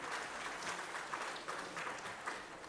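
Sustained applause from an audience at an agricultural research institute's foundation day and awards ceremony as award winners come forward, steady dense clapping filling the hall without a break.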